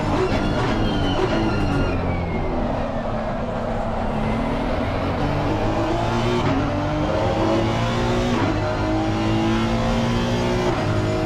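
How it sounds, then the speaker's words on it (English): Onboard Honda race car engine in a PC racing game at Donington, a loud, steady drone that rises and falls in pitch with gear changes throughout, with no voices. "Underrated, I reckon, the sound of the Honda."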